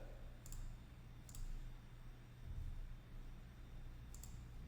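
A computer mouse gives a few faint, sharp clicks, spaced apart over a low steady hum.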